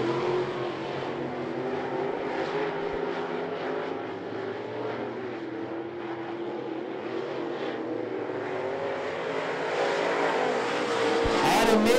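Race cars roar around the track during a heat race at I-75 Raceway, a steady loud blend of engines that swells slightly near the end as the pack passes closer.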